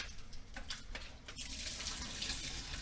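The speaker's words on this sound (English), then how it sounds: "just go ahead and run some water so it doesn't burn the sink" Tap water runs steadily into a kitchen sink, a continuous close hiss and splash that builds and stays even, with no talking over it.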